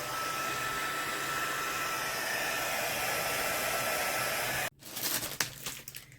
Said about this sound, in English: I'm just going to dry this real quick